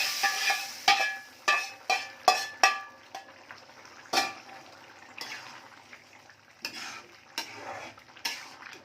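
Spices sizzle as they hit hot oil for a baghar tempering, with several sharp bursts of crackle and metal utensil clinks early on, then quieter scraping and intermittent spitting sizzle.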